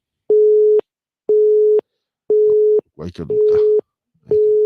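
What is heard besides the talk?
busy tone after a radio phone-in call line dropped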